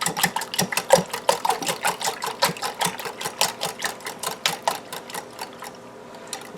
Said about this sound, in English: let's whisk these up